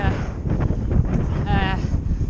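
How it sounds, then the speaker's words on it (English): Strong wind buffets the microphone on a Raleigh Strada TS2 road bike ridden alongside a dual carriageway bypass, a constant low roar with gusty swells throughout and no speech. "it is fucking windy"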